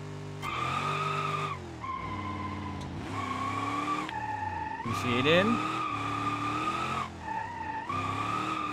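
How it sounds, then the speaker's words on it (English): Car in the BeamNG driving game held sideways in a drift with the handbrake, steady loud tire squeal and skidding over a revving engine that rises and falls in repeated surges, with someone talking throughout. "Utilizing a good amount of handbrake, though, to keep this car sideways."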